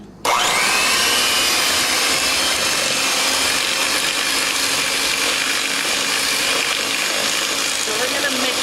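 An electric mixer creams butter and sugar for blueberry muffins, whirring at a steady, loud, unbroken high-pitched drone from start to finish with no pauses or talk.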